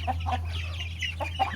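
Chickens in a rooftop coop cluck in a quick run of short, close calls over a steady low hum, with no talking.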